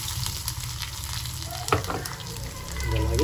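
Cumin, mustard seeds, dal, dried red chillies and crushed garlic crackle and sizzle in hot oil for an Andhra-style spinach dal tempering, a steady close frying hiss with small pops and a brief stirring clatter.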